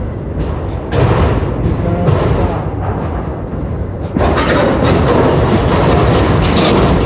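A southbound CSX Q217 autorack freight train crawls past close by, its cars rumbling and clanking with heavy jolts and slams over the rails, loud and continuous throughout.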